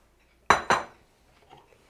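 Two quick metallic clinks of a utensil against a mixing bowl as apple fritter batter is combined, close and distinct, followed by faint soft scraping.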